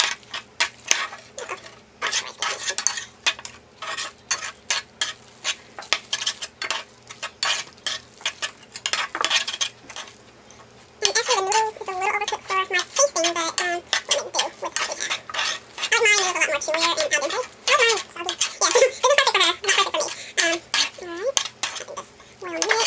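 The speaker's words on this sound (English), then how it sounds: "Let me stir that up." Noodles being stirred in a pan for a fire noodle carbonara dish, with repeated scraping and clattering of utensil against cookware and a faint sizzle, loud and close, continuing steadily throughout with no talk.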